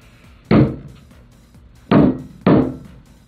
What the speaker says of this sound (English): So we hit it with a hammer.